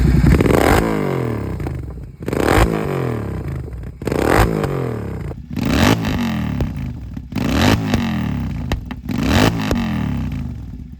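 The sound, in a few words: Royal Enfield GT650 motorcycle exhaust note, AW101 full system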